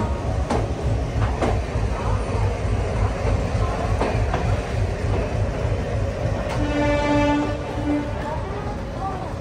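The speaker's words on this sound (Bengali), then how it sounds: "বিকাল 4:50 আমাদের ট্রেন ছেড়ে দিল হাওড়া জংশন থেকে নতুন দিল্লিতে।" A train pulling out of Howrah Junction bound for New Delhi, a continuous rumble of wheels and carriages close by, with a few sharp clanks and a brief tonal squeal or horn near the end.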